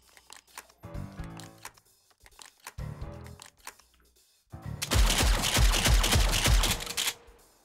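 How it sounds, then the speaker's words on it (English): A gun is slam fired in Hot Dogs, Horseshoes & Hand Grenades: first scattered clicks and mechanical handling, then a rapid rattling burst of loud, close shots lasting a couple of seconds. "Let's try slam firing."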